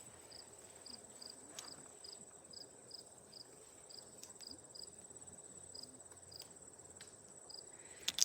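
A cricket chirps outdoors during an immunity challenge, giving a steady series of faint, evenly spaced high pulses over soft background noise.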